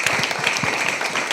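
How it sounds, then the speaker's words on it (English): An audience at a London storytelling event claps in a brief burst of dense applause, fairly close and steady. "can we give a round of applause for that"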